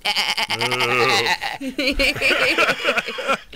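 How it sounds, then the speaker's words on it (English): Goats bleat loudly and close by, with wavering, quavering cries one after another, alongside what sounds like a chuckle. "Sounds like it's just goats."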